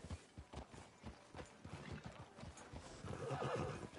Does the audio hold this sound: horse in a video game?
yes